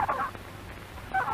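A turkey gobbler on a farm gobbles in two short, faint rattling bursts, one at the start and one near the end, separated by quiet.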